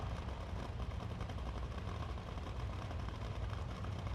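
A Dodge fuel funny car engine idles fast and steadily at a drag racing qualifying round, a dense, continuous roar heard from a distance with no voices.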